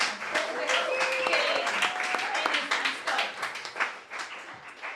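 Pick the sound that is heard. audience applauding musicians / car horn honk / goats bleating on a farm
audience applauding musicians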